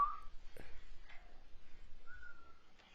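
Inside a house, a thin whistling tone sounds faintly a few times, short rising notes and one longer steady whistle, with soft knocks and background hum in between.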